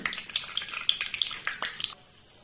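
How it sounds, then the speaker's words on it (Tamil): Cashews sizzle and crackle in hot ghee while making kodo millet pongal, with a steady busy frying hiss broken by small pops and spoon clinks, ending abruptly. "இதுல நம்ம இந்த முந்திரி பருப்பு போட்டு வறுக்கலாம்"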